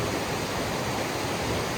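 A spring waterfall in a forest pours steadily, a dense, even rush of falling water that fills the scene without a break or any voices.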